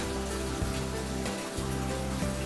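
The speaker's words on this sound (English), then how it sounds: "Non-stop rainfall." Heavy, non-stop rainy-season rain in Hawaii pours down in a dense, steady hiss, loud and continuous, with occasional louder drips and no voices.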